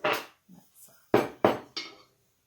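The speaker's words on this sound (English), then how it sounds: "stir this up" Spoon stirring a rehydrated dehydrated meal inside its pouch, a few short crinkling, scraping bursts separated by brief pauses, close and fairly loud.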